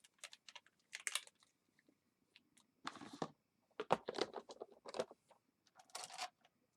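Crisp snips and paper rustles as scissors cut out a paper shape for a handmade card, short bursts with pauses between, close and quiet with no talking.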